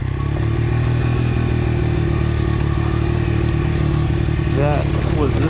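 A Honda XR motorcycle engine chugs steadily in first gear on a narrow trail, a close, continuous low-pitched putter with rattling, while a rider talks and exclaims over it.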